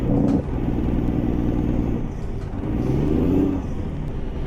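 A Mack B62 truck with a 15-speed twin stick triplex transmission, driven in an American truck simulator game, rumbles loudly and continuously with its Jake brake engaged, a steady low engine growl with slight pitch shifts.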